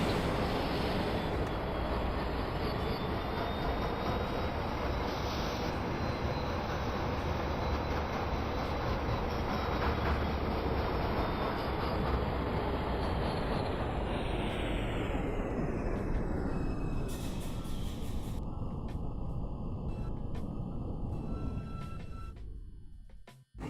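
Simulated NYC subway IRT 2 train running northbound in OpenBVE, a loud steady rumble of wheels and motors throughout, then braking and winding down near the end.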